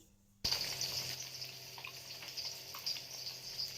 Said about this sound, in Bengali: এখন মাছগুলো আমি লাল লাল করে ভাজা করে নেব